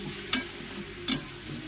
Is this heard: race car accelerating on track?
no